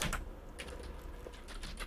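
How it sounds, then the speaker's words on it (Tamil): Fast typing on a computer keyboard while writing Python code, a quick close patter of key clicks with a few sharper strokes over a steady background hiss and no voices. "ஃபார் எக்ஸாம்பிள் நான் பிரிண்ட்டுன்னு வந்து டைப் பண்ணுறேன்"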